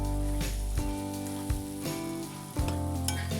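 Boiled potatoes hit hot oil tempering for vada pav filling and sizzle steadily, with a few louder stirring scrapes and thumps from the pan.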